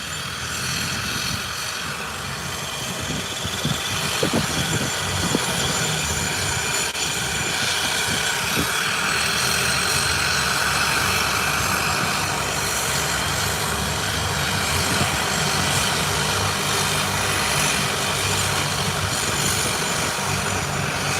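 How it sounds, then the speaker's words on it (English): Twin engines of an airliner running at full power before taxiing, a loud continuous droning roar with steady high whine, unbroken and close throughout, with no talking. "Both engines are fully powered, and that flight is ready to start taxiing."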